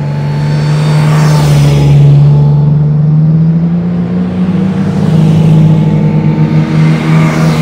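A car climbs through sandy desert dunes on a track between Hameem and Liwa, its engine droning loudly and steadily from inside, rising and falling slightly in pitch as it revs.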